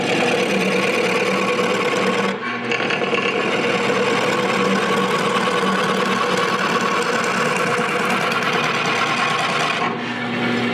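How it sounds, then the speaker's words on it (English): A wood lathe spinning while a skew chisel turns a workpiece: loud, continuous whirring and cutting hum, briefly dropping out twice, with no voices. "what I'm going to do is really slow the lathe down so you can see exactly what's going on"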